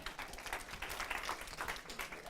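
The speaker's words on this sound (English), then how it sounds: "Round of applause for Shan" Audience applause at a tech sales event, a modest room of people clapping in a quick, uneven patter that stays fairly quiet and steady for a couple of seconds.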